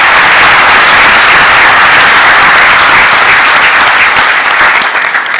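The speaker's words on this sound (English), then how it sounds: "With applause, we welcome His Excellency." Sustained, loud audience applause at a Kenya-Poland economic forum as the President is welcomed, dense and steady throughout before thinning slightly at the end.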